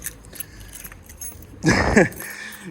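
A bunch of keys jangles briefly and close by, a short metallic rattle lasting about half a second against quiet background noise.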